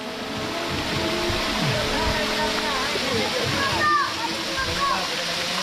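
Alumu waterfall in the Gayo highlands rushes as a constant broadband roar close by, while people talk over it.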